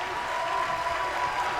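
Dense, steady crowd cheering and applause fills an arena at a wrestling match, loud and continuous with no break.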